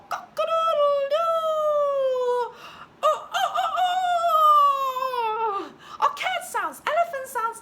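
A human voice imitates a rooster's crow, drawing out long wavering calls, repeated several times, loud and close.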